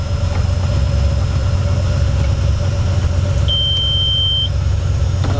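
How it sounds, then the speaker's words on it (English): A loud car engine idles nearby with the exhaust cutout closed, a steady, heavy rumble throughout with a brief high whine partway through. "because the car is pretty loud, even with the cutout closed"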